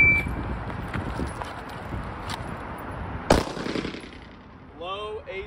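A single sharp gunshot, drawn from a concealed-carry fanny pack by a shooter dropped to the ground, cracks loud and near partway through, with faint impacts and shuffling before it and brief chirpy noise after.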